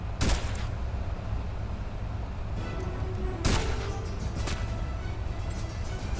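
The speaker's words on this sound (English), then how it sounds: "Well, yep, there is definitely somebody there. And they're shooting." Gunfire in the video game SOCOM US Navy Seals II, two loud sharp bursts of shots standing out over a constant low rumble of battle ambience.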